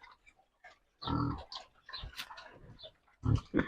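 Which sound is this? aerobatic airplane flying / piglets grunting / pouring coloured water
piglets grunting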